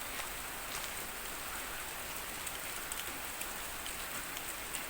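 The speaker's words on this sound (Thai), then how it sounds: "ตอนนี้ฝนก็ยังคงตกลงมาได้เรื่อยๆนะครับ" Steady rain falls continuously, a dense even hiss of drops with faint scattered patters, moderately distant and uninterrupted.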